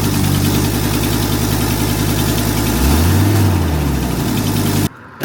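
Ford 6.7 diesel pickup truck idling close by, a loud steady low rumbling exhaust drone with a brief swelling rev partway through, cutting off abruptly near the end.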